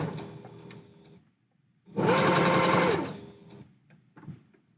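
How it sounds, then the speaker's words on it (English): A sewing machine stitches the lining of handpaws in one fast whirring burst of about a second, near and clear, with quiet handling noises around it. "The machine doesn't like it if you forget to put the presser foot down."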